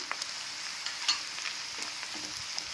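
Capsicum and other vegetables frying in a pan, a steady bright hiss of sizzling oil with scattered small pops and crackles, close and without voices.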